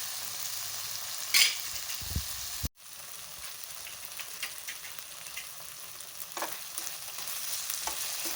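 Homemade fresh cream being stirred together with other ingredients in a home kitchen for a sweet dish, giving soft, quiet scraping and occasional clinks of the spoon against the bowl.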